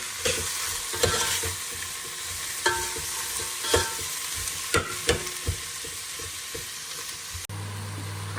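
Capsicum mixture stirred in a pan for a cheese Italian dish, a soft steady sizzle of frying with several scraping stirs and knocks against the pan, close and clear, ending in a low hum.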